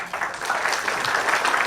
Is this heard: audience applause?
yes